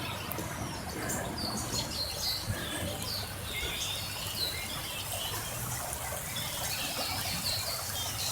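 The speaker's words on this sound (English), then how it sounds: "Here we are by the creek" A creek after rain gives a steady, broad trickling wash, with small birds chirping repeatedly above it at a moderate distance, no one speaking.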